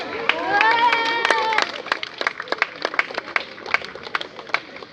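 Zoo spectators applauding at the end of a sea lion show, scattered claps ringing out in bursts over crowd murmur, following an opening stretch of harmonic tones.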